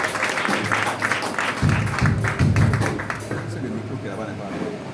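Applause acclaiming the Lord breaks out at a church graduation and ordination ceremony, a steady wash of clapping with a few heavier thumps in the middle and a voice underneath.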